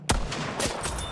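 Sniper rifle firing in a video game, one sharp gunshot followed by a short echoing tail and a faint second report.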